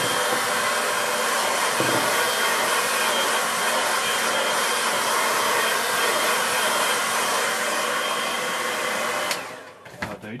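Hair dryer blowing on a watercolour painting, a loud steady roar held for about nine seconds before it is switched off and winds down, followed by a few handling knocks.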